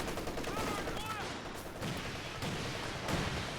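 Land Mattress rocket artillery barrage in the World War II strategy game Company of Heroes 2, a steady rumbling volley of launches and explosions throughout, with a voice speaking over it.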